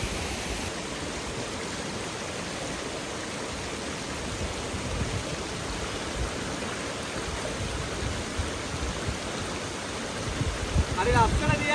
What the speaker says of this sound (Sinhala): මේ පිටිපස්සෙන් දෙනවා අපිට වතුර ගලාගෙන එනවා.